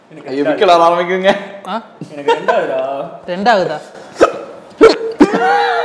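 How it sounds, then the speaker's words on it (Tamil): Repeated hiccups from a person during a party-style question game, sharp catches breaking through speech and chuckling, with people talking and laughing throughout. "என்னங்க விக்கல் வருது?"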